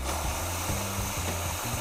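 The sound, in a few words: VBM Lollo espresso machine pump drawing water into boiler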